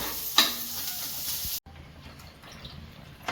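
Soaked rice is tipped into a pot for ghee rice (pulao), giving a brief rushing, sizzling pour that cuts off abruptly partway through, followed by a quieter, softer simmer.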